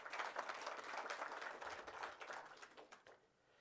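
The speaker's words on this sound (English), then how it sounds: "you can give him a round of applause" Faint, distant applause from an audience at an inauguration ceremony in Windhoek, Namibia, a brief patter of scattered clapping that fades out after about three seconds.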